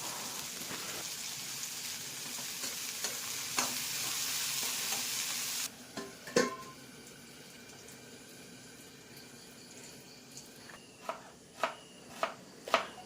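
Scrambled eggs sizzle and crackle in a pan over a home stove, a dense frying hiss for about six seconds. After that it turns quieter, with sharp clinks and scraping stirs at irregular intervals, close by, and no one speaks.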